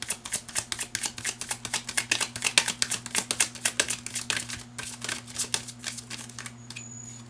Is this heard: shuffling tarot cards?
yes